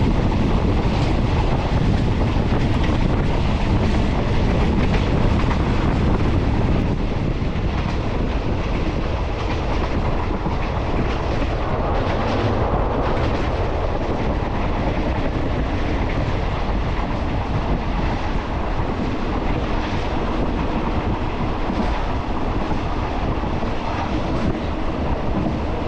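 Overnight train carriage running from Trang toward Bangkok, a steady loud rumble with rattling and rolling clatter of the wheels, wind rushing throughout, with no talk.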